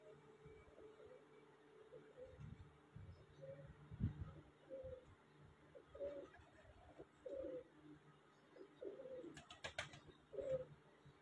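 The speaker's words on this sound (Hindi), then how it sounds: "ब्रीडर कबूतर" Breeder pigeons coo in a series of soft, low, rolling calls spaced a second or so apart, fairly close, over a faint background hum and with a brief rustle near the end.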